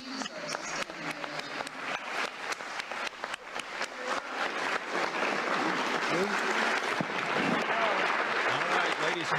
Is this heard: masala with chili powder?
no